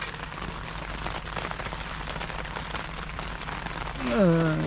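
Steady rain drums on a tent at the Puncak Halimun camping ground near Bogor, West Java: a dense, continuous patter close overhead, with a brief voice rising near the end.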